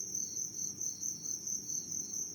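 Crickets on a cricket farm give a dense, continuous high trill that pulses evenly and stays steady and close, with no voices.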